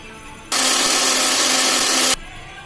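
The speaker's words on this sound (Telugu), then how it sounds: "సో ఇది కూడా మిక్సీ పట్టేస్తున్నా." A mixie grinder whirs loudly as it grinds tomatoes for a fish curry, one continuous burst of about a second and a half that starts and stops sharply, with no talking.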